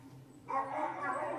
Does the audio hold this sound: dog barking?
yes